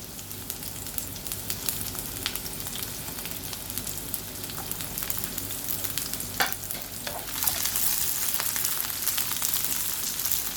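Chopped onions sautéing in a pan for a cheesy egg breakfast skillet, a steady close sizzle and frying hiss with light stirring scrapes running throughout, no voices.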